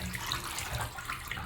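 Hot water pours steadily from a tap into a sink or tub, a continuous close rushing splash that holds level throughout with no talk over it.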